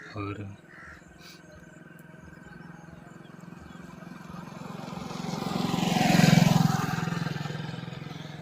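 A motorcycle passes on a road on a morning outing, its engine swelling steadily as it approaches, peaking up close, then beginning to fade.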